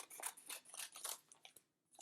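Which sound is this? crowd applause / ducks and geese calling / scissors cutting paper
scissors cutting paper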